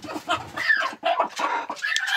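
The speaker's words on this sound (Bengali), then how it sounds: "এইখানে যে মুরগিগুলো দেখতে পাচ্ছেন এগুলো হচ্ছে কলম্বিয়ান লাইট বাহামা।" Colombian Light Brahma chickens on a fancy poultry farm give a few loud, close clucking calls in short bursts, with no one speaking.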